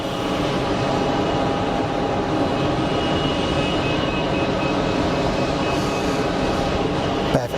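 A Boeing 777-300 airliner on final approach at Geneva Airport makes a steady, loud engine roar with tonal whine layered through it, holding at a constant level over the whole stretch.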